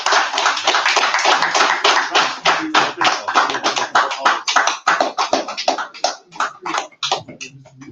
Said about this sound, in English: Clap it up, man.